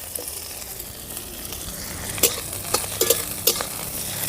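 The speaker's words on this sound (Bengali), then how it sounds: "এবারে দিয়ে দেবো ভেজে রাখা মাছগুলো" Fried small river fish are stirred into green chilies in hot oil: a soft, steady sizzle runs under several sharp clicks and scrapes of a spoon against the pan.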